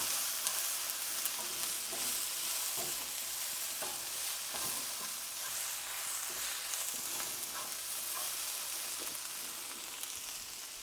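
Beef sizzles steadily in a hot pan for sesame beef street tacos while a utensil stirs and scrapes it now and then. The steady frying hiss is close and continuous, with no voices.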